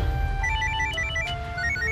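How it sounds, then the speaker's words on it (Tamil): A phone ringtone plays through a Tamil television serial scene, a steady electronic melody of repeating tones ringing on without pause and nobody answering. "ஃபோன் ரிங் போகுது, ஆனா எடுக்கலக்கா"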